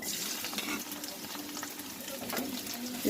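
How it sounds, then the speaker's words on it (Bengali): Chopped onion frying in hot oil in a kadai, a steady close sizzle with faint stirring scrapes and no talk. "তেল গরম হয়ে গেছে, আমি এবার পেঁয়াজ কুচিটা দিয়ে দেবো।"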